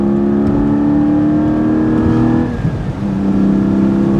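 A Porsche 718 Spyder's exhaust drones as the engine revs, a fairly loud, steady engine note with a brief dip near the end and no talking.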